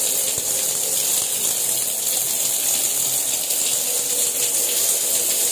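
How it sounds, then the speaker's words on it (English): Hotel shower at the Hyatt Regency in New Orleans running steadily, a loud continuous hiss of spraying water filling the whole moment with no voices. "If you make like this, this one, it will open the shower."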